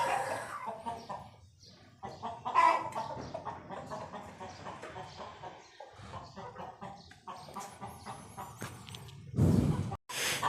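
Hens, including a broody one, cluck and murmur nearby in a series of short calls, with a louder squawk near the end.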